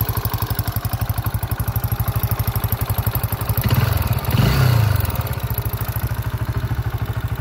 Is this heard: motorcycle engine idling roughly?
yes